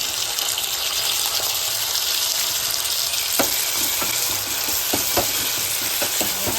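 Tomato and browned onion fry in a pan while cooking a spicy misal, giving a steady loud hiss throughout, with scattered spoon taps and clicks toward the end, close up and without talking.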